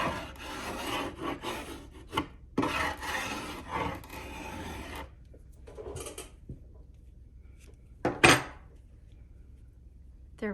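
Paint scraped off a wood surface during a Saltwash paint inlay project, giving several close, rasping strokes in bursts, then a pause, a short scrape and a sharp scratch near the end.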